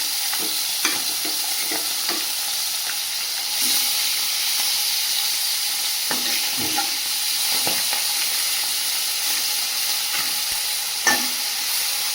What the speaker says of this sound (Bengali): কড়াই দিয়েছি তেল এর মধ্যে আমি পার্শে মাছগুলো ভেজে নেব